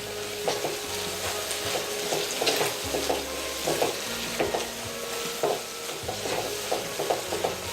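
Fenugreek and tomato curry is stirred in a frying pan, a continuous sizzle under rhythmic scraping strokes that repeat steadily, close and fairly quiet throughout.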